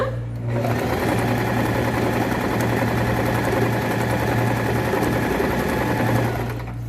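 A Singer Tradition 2250 sewing machine runs continuously close up, a loud steady motor whir with rapid needle clatter, starting and stopping cleanly with no talk.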